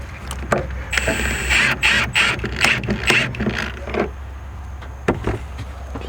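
A ratchet runs a nut down onto the rear shock of a 2005-2014 Ford Mustang S197, making a close, rapid series of metallic clicks in quick bursts over steady low background noise.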